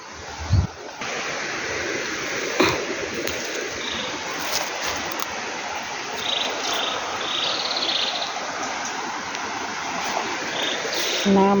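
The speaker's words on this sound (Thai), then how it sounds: "น้ำไหล" Stream water flowing along a forest creek, a constant close rushing murmur layered with insect chirring and a few bumps and knocks.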